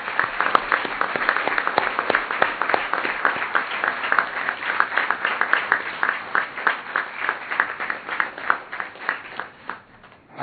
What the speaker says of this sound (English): I would like all of us to give them a big round of applause.